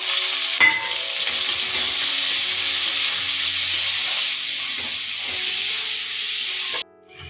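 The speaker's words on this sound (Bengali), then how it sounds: "আদা কুচি রসুন কুচি টমেটো কুচি দেব খুব একটা ছিটকাবে না ভালো করে এবার মশলাটা ভালো করে কষে নেবো" Chopped ginger, garlic and tomato masala sizzle in a hot pan with a constant loud hiss close by. Faint stirring clinks sound under it, and the sound cuts off abruptly near the end.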